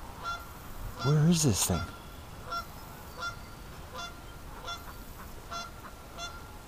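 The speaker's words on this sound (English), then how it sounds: "Oh, Canada geese." Canada geese arriving in a backyard by a swamp in the morning, giving a series of repeated honks at a distance, with someone speaking briefly near the start.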